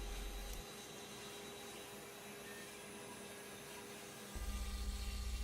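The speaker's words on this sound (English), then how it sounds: "The final outside shape is being cut with a 1/2 inch end mill, same bit we did the roughing pass with." A CNC router cutting the outside shape of a wooden piece with a 1/2 inch end mill gives a steady, droning high-speed spindle whine with a continuous cutting hiss. A low rumble drops out early and returns near the end, with no talk.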